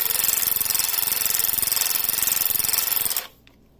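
A Kobalt 24V Max 3/8-inch cordless ratchet runs at speed with a loud, steady buzzing chatter for about three seconds, then cuts off abruptly into near silence.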